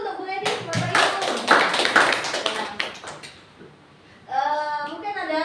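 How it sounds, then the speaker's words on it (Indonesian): Audience clapping at a teachers' meeting, a dense burst of close hand claps for a few seconds that dies away, followed by a voice talking. "Kalau yang baik, tepuk tangan dulu untuk Bu Lady, Bapak Ibu."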